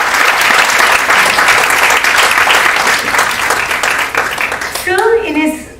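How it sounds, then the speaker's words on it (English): Audience at a school prize distribution function giving a loud, sustained round of applause that tapers off near the end, where a voice begins speaking. "Can we have a huge round of applause for this?"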